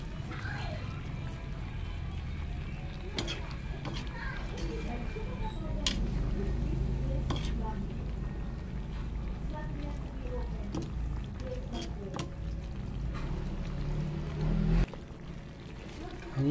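Stirring ginataang sitaw with ground pepper in a pan, soft scraping and sloshing of the vegetables in coconut milk with occasional sharp clicks of a utensil against the pan, under a steady background hum.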